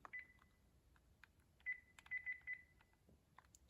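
Buttons pressed on a 1703 telephone handset made in 2001: short electronic keypad tones, several quick beeps in an irregular run with small clicks between them, faint and close in a quiet room.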